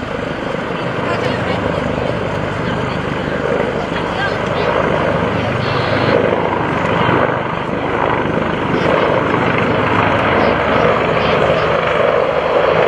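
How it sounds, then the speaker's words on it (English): A UH-1N Huey helicopter's engine and rotor drone loudly and continuously, close and steady throughout, with a narrator's voice running over it. "UH-1 November Huey helicopter."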